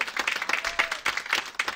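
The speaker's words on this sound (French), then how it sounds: "On peut l'applaudir très fort." Applause breaks out for the Napoleon Prize presentation to Prince Joachim Murat, a dense, uneven burst of clapping hands from a nearby audience.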